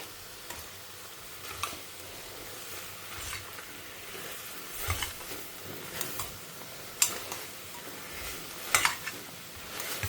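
Mild masala for a protein-rich pulao is stirred in a frying pan, with a faint steady sizzle under scattered spatula scrapes and taps against the metal, and no voices.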